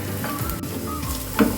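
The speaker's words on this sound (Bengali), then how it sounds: "কসুরি মেথি দিয়েও আমি 1 মিনিট নাড়াচাড়া করে নেব।" Dried fenugreek leaves (kasuri methi) stirred over a low flame in a frying pan for palak paneer: a brief, gentle sizzle with soft scraping as the spoon moves, ending in a slightly louder scrape.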